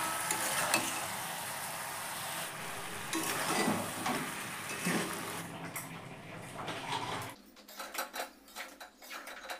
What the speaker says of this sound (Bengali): তো সমস্ত দিয়ে এখন ভালো করে কষাচ্ছি।